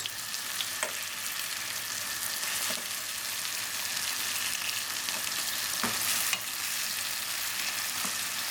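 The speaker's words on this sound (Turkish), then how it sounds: "Sucukların diğer yüzü pişince çeviriyoruz" Sucuk sausage slices frying in a pan for a breakfast dish, a steady close sizzle with occasional small pops and crackles throughout.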